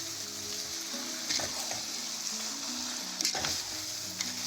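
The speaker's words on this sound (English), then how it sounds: "Just going to let this fry now for another" Indian-style spicy duck curry fries in a pan with a steady close sizzle, broken by a few louder bursts of scraping and bubbling as it is stirred.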